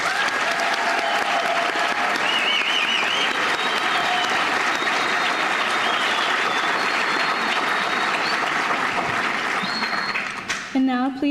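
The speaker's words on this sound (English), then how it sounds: "And now, one last round of applause for all of our new inductees." Audience applause for new inductees at a school National Honor Society induction ceremony in an indoor venue: dense, sustained clapping from a large crowd for about ten seconds, with some voices and cheers, before it thins out and breaks off at the end.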